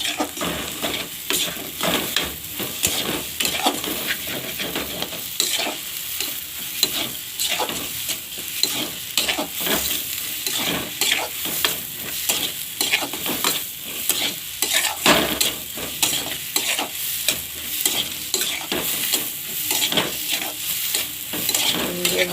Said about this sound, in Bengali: ভালো করে দুটো ডিম দিয়ে ভালো করে কষিয়ে নিতে হবে।